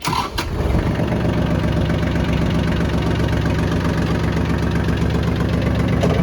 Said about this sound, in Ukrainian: Давайте запустимо йому двигунчик.